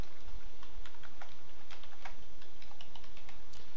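Rapid, uneven clicking of keys on a computer keyboard, close and fairly soft, continuing without pause.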